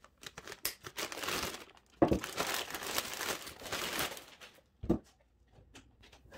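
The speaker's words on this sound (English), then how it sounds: "remove the plastic that covers the motor" Plastic covering peeled and crinkled off the motor of an Echo PAS 2620 trimmer power head, a quiet rustling, crackling and tearing with a few sharper snaps, close by and with no talk.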